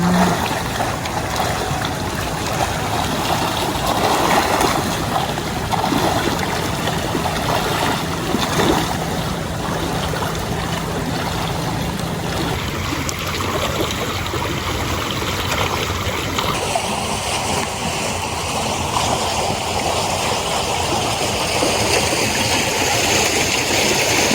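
Steady, rushing water flows continuously into a field, a dense close-up wash of noise with no pauses.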